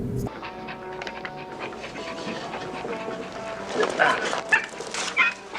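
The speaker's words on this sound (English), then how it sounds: "It's about a little dog" A small dog in a film, The Eiger Sanction, barks and pants in short yaps and breathy huffs that grow louder toward the end, set against a movie soundtrack with voices.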